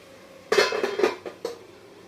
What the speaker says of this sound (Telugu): ఇప్పుడు మూత ఉంచేసుకోవాలి.